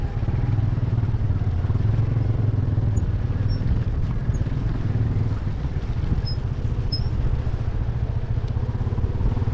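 Yamaha FZ25 motorcycles ridden on a mountain road from Gangtok to Lachung in North Sikkim, a steady, loud, close engine drone with rattling clatter running throughout.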